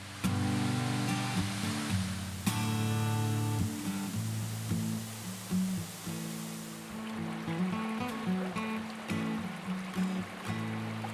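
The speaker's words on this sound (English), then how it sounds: "we have the Cane Creek Cascades, which is 40 feet tall" The 40-foot Cane Creek Cascades at Fall Creek Falls park, a steady rushing roar of falling water that continues under soft background music throughout.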